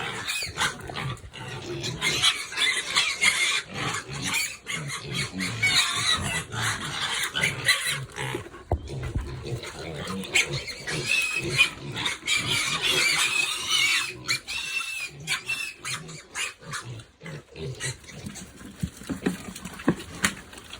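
Hungry weaned piglets, eleven days past weaning, squealing, grunting and jostling at feeding time, loud and busy throughout with overlapping squeals and scuffling close by.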